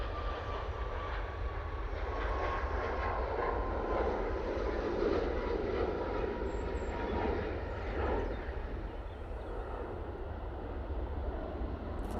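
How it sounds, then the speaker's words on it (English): A passenger plane passing high overhead, a broad steady roar holding for several seconds over calm outdoor ambience. "I think that's my plane, that one."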